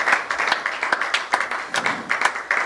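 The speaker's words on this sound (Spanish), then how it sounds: "Y cuando me den un aplauso a Dios." A church congregation claps together in irregular bursts of applause, moderately loud and close, with a few individual claps standing out.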